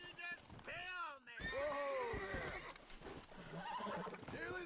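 A horse whinnies and neighs repeatedly in the Red Dead Redemption video game, with several rising and falling calls close by and a voice talking over them.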